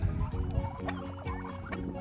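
Turkeys in a rural village yard give short bursts of gobbling and clucking, a few calls overlapping at moderate distance over a low background hum, with no people talking.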